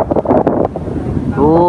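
Strong wind buffets the microphone outdoors at a homing pigeon loft, a steady rumbling gust throughout with a brief tonal whine near the end.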